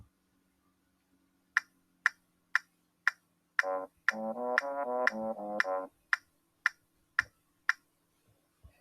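Steady metronome clicks with the tuba part of a band recording, a short low brass line playing a few sustained notes in the middle; no voices.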